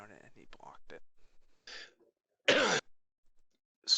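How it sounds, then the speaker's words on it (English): A person coughs and clears their throat during a tabletop role-playing game session, sharp short bursts, with the loudest single cough near the middle, mixed with brief murmurs and breaths. "No, that was just me coughing."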